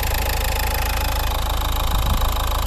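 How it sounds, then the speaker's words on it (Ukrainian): A 2011 Nissan Qashqai+2 engine idling steadily with an even, low rumble and a slight rhythmic pulse, heard up close. "Моторчик працює рівненько, гарно"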